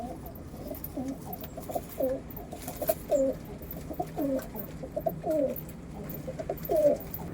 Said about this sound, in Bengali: এবার এই পায়রা দুটো আপনাদের ছেড়ে দেখাচ্ছি